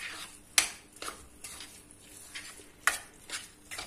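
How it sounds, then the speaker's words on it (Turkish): Utensils scrape and clink against a pot as a bulgur mixture is stirred, with a few sharper knocks standing out among softer, irregular scraping. "Evet, iyice karıştırdım."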